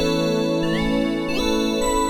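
Shooting Stars, a synth preset in Arturia Analog Lab 5, plays a sustained, bright chordal tone with shimmering upward-gliding sweeps, steady and prominent with no talking.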